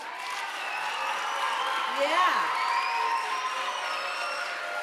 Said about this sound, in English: give yourselves and your peers a big round of applause